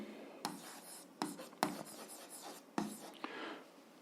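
A pen or marker scratches and taps across a surface in short strokes while working out an algebra exercise, close and quiet, with soft breathy speech faintly underneath.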